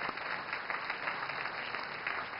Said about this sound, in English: So if you could just give a quick round of applause to the judges as well.